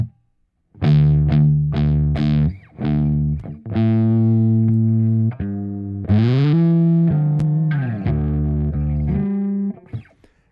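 Electric guitar played through a Plexi-style late-1960s super lead amp setting rings out in fat, saturated single notes and short phrases with sustained, harmonically rich distortion, played alone with no talking.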